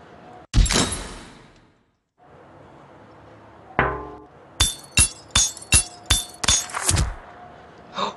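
A hammer strikes glass in the Henry Stickmin video game: one early sharp crash, a later clink, then a quick run of about seven bright, ringing glass hits in steady rhythm, close and crisp against a quiet background.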